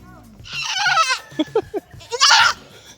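A goat bleats loudly and closely twice, with short, faint vocal sounds in between.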